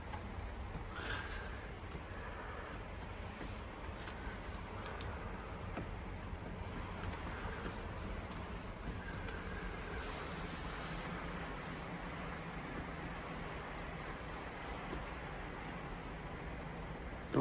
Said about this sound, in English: it's still just as windy today